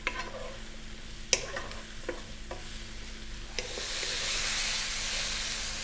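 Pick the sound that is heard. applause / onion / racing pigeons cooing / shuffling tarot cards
onion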